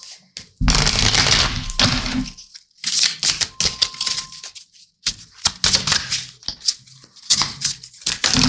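Tarot cards being shuffled up close in repeated bursts: crisp riffling and flapping rushes separated by short pauses and soft taps, alone without talk.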